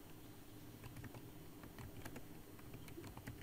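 Keys clatter on a computer keyboard in a run of quick, irregular taps, faint and close, over a steady low hum with no talking.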